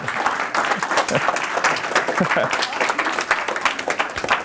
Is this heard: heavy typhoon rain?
no